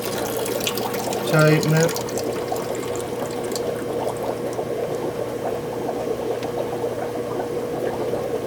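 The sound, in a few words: water flowing out of a siphon tube while acclimating shrimp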